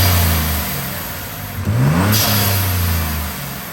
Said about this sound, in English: the Boomba blow-off valve spacer. This just kind of gives you the whooshy sound